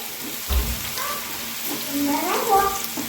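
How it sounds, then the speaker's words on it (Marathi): Okra frying in hot oil in a pan, a soft crackling sizzle with scattered pops and a brief clatter, fairly close, under a voice speaking. "तेलामधून पहिले फ्राय करून घ्यायचे, तेलामध्ये असं फ्राय होऊ द्यायचं"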